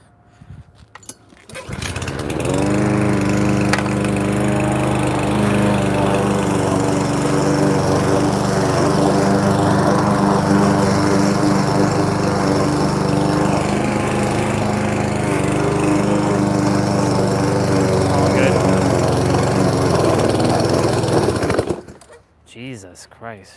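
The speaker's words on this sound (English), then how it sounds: "I hate this lawnmower so much." A lawn mower engine running steadily and loudly at close range for about twenty seconds, starting abruptly and then cutting off, with a droning buzz.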